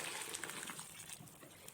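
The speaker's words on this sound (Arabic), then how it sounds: "هنزل كده بالميه المغليه" Boiling water is poured over a duck while it cooks, a steady gushing splash that runs unbroken through the whole short moment at close range.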